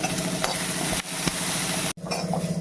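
Pirandai (adamant creeper) and ginger sautéing in a pan make a crackling sizzle with brisk rhythmic stirring scrapes, close and clear, broken by a brief dropout near the end, with no speech.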